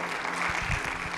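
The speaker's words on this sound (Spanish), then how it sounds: "dele un aplauso al Señor" Church congregation applauding during a service, a brief dense wash of many hands clapping that sounds steady and fairly close.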